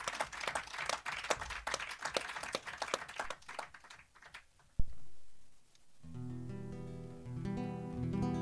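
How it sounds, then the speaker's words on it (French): An audience applauds a live band at a media library, a dense patter of clapping for several seconds that stops before the band starts playing music. "On peut les encourager en les applaudissant."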